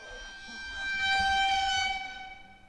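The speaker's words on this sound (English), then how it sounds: "Honorary foghorn here." A foghorn sound effect plays alone as a loud, deep, sustained horn blast that swells up and then fades away.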